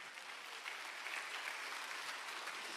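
Church congregation at a Friday worship service clapping together, a faint, steady wash of applause with no talk over it.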